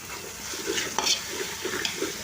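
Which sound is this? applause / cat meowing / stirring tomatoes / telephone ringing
stirring tomatoes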